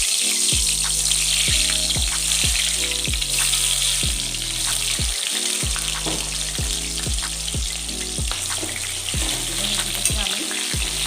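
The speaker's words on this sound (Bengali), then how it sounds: "এবার আমি নুন হলুদ মাখা পটলগুলো ছেড়ে দিই।" Pointed gourd pieces coated in salt and turmeric fry in hot oil, a steady loud sizzle with a repeating low rhythmic thump from stirring or a motor throughout.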